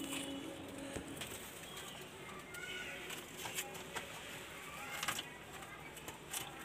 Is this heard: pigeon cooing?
yes